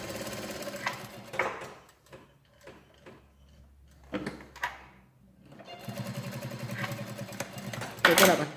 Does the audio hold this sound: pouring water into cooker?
no